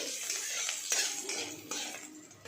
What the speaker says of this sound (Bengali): ফোড়নটা কয়েক সেকেন্ড নাড়াচাড়া করে নিতে হবে